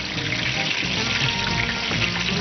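Pointed gourd (potol) frying in a pan in a kitchen, a dense, steady sizzle that is fairly loud and continuous, with no voices over it.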